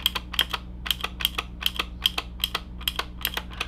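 A Zeus G61 mechanical keyboard with clicky switches being typed on, giving a rapid, irregular run of crisp, sharp keystroke clicks over a faint low hum, close and fairly loud, with no voice.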